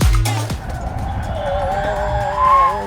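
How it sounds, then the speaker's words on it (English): Tyres screech as a Tata electric car corners hard on a flying lap, opening with a loud thump and settling into a long wavering squeal that holds throughout. "as you can probably hear from all the screeching that's going on"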